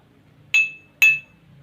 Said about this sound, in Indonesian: Bunyi gelas yang dipukul dengan sendok.